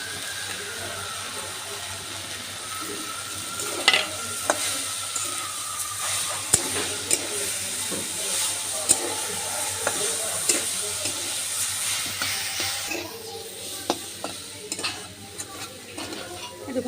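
Tender jute leaves and chopped onion fry in a pan while being stirred, a soft continuous sizzle and hiss under irregular spatula scrapes and clicks that grow busier toward the end, with no voices.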